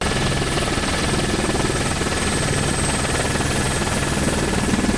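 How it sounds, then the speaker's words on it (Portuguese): A police support helicopter flies overhead, its rotor a steady, loud broadband roar with rhythmic low thumping that holds unbroken throughout. "Até o helicóptero do Nota Air foi acionado em apoio."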